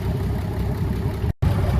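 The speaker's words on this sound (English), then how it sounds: "He says this is just over 800 cubic inches on this tractor. 6-cylinder. Runs like a beast." A six-cylinder tractor engine of just over 800 cubic inches, running on propane with a coil on every cylinder, rumbles close and loud in a steady low throb, with a brief dropout near the end.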